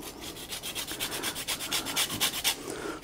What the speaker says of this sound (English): I'm just going to add the zest of a little bit of lemon. This is just a grater.